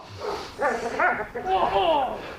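A protection dog in public training yips and barks at a stranger in short, high, whiny bursts, several in quick succession, close and fairly loud.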